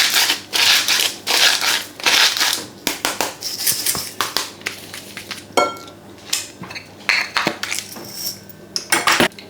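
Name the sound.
mixing chicken with peri seasoning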